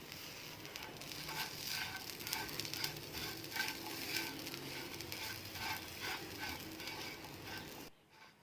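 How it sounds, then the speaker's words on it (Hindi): Raisins and dates being dry-roasted with coconut in a pan over low heat, giving a continuous close sizzle and crackle with steady stirring scrapes throughout, then stopping abruptly. "अब इसमें हम किशमिश और खजूर डाल देंगे। हल्का सा इसे भी भून लेंगे खोपरे के साथ ही।"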